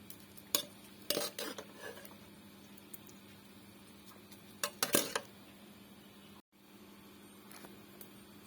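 A serving spoon scoops Isan-style tadpole curry with Thai melon from a pot, giving a few scattered clinks and scrapes over a low steady background hum.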